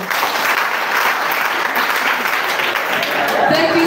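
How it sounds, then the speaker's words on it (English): Audience at a live silent pilgrimage event at St. Padre Pio Shrine Kabulamuliro clapping for the service team, a dense, steady wash of applause holding loud throughout with a faint voice underneath. "Please let's clap for them."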